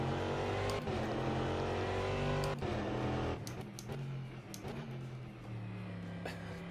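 A race car in the sim racing game rFactor 2 drones steadily at high revs, with sharp shifts and drops in pitch as it changes gear and slows, loud and close with no talking.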